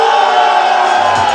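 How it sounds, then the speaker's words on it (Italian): Men at an Italian wedding reception roar together for the groom, a loud sustained crowd shout filling the whole moment with a dense, unbroken wall of voices. "E adesso l'urlo degli uomini per lo sposo."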